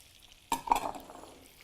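Green peppers and onions hit a hot pan with a sudden burst of sizzle that flares loud, then fades into a softer crackle within a second.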